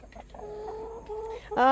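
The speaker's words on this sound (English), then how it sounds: "I have chickens pecking, trying to get my attention." Chickens cluck close by in soft, drawn-out murmurs, ending with a louder, sharper cluck.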